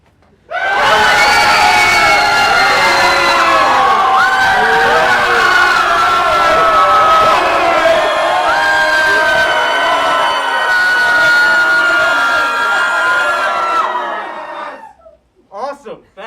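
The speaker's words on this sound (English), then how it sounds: "That was beautiful screaming." A large group of volunteers screams together at a meeting, a loud sustained roar of many voices lasting about fourteen seconds before cutting off to scattered voices.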